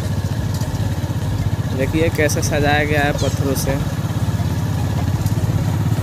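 A motorcycle ridden near a stone-decorated bridge in Bihar produces a continuous, close engine drone with a rapid low pulse, while someone talks over it.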